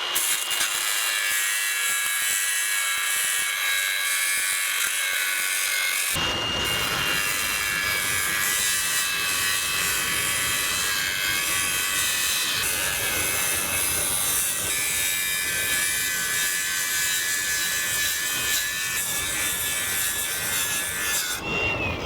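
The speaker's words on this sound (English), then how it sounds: "let me just show you kind of how you could use this disc to take down those welds" A grinding disc works down welds on metal in a continuous, loud, rasping grind that holds steady for the whole stretch, with a short change in tone partway through.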